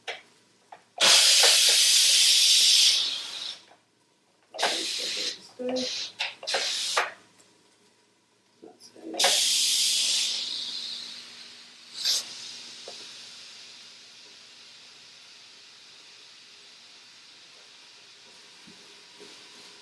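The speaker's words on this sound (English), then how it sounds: "the steam is still coming out of the pot with the pasta in it" Steam hisses loudly from an Instant Pot holding pasta during a quick pressure release, in several long bursts with pauses between them and a fading tail. A brief spoken phrase is heard.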